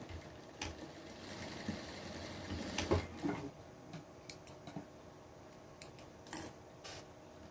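A sewing machine stitches fabric scraps into pet bows, running in short bursts with backstitching at each seam's start and end; close, rattling whirs broken by pauses and small clicks and snips, no talking.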